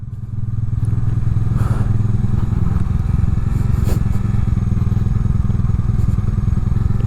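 A motorcycle heavily loaded with luggage rides over a rough, broken road, its engine droning steadily and loudly while the frame clatters and thuds over bumps throughout.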